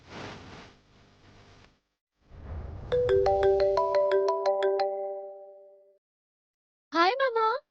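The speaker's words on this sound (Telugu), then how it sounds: "Sita phone lift చేయట్లేదేంటి?" A mobile phone plays a melodic ringtone for a few seconds, loud and close, between bursts of speech in an indoor drama scene.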